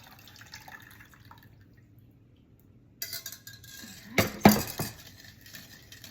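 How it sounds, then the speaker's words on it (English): Warm milk is poured through a strainer into a bowl while yogurt is being made: a short splashing, trickling pour with a clink of metal or glass near the end, close by, after a quiet stretch. "So I'm gonna add my warmed hot milk. So it's very important to use a strainer just so you don't get any lumps."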